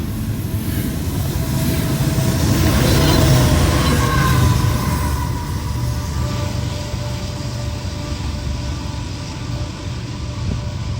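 A long freight train rolling past Glendale Station with DPU locomotives, a steady loud rumble and clatter of wagons and wheels throughout, with a faint high whine joining partway through.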